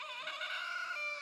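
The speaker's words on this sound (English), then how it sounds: "We're not really supposed to have roosters" A rooster crows loudly and close, one sustained, bright call lasting just over a second, with no talk over it.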